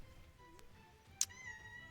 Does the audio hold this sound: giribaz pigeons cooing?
no